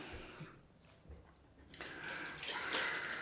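Hands being washed under running tap water after a head shave, a faint shuffle at first, then a louder steady splashing rush of water for the last second and a half.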